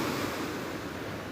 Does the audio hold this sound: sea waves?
yes